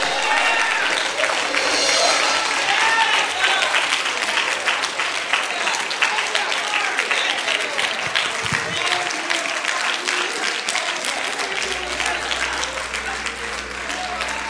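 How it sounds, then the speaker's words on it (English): A church congregation claps and applauds in praise, a dense, loud, sustained wash of many hands that holds steady throughout with no voices standing out. "give the Lord a hand clap of praise"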